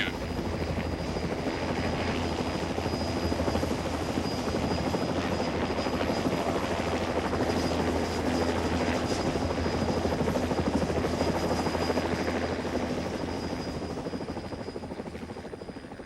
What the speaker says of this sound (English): Helicopters are really tremendous things.